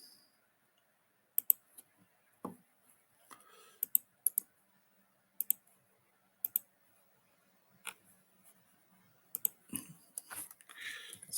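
Computer keyboard keys clicked in short scattered bursts while a chat message is typed, close and crisp with quiet pauses between groups of taps and no talking.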